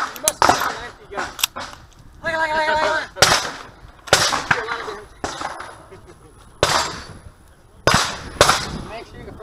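Gunshots at a shooting range ring out in a series of sharp, loud cracks spaced a second or so apart, with people talking between the shots.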